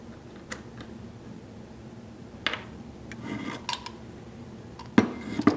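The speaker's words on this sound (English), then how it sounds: "And then you can remove the fluid nozzle with the included wrench." A wrench loosens the fluid nozzle on an HVLP spray gun, giving a few faint metallic clicks, scrapes and rubbing sounds up close, scattered and quiet, with no talking.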